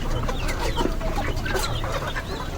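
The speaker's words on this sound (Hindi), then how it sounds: "ये हमारी मुर्गियाँ देखें कितने शौक़ से खाती हैं।" Chickens clucking busily as they eat hydroponic fodder grass, overlapping soft clucks and chirps close by against a steady noisy background.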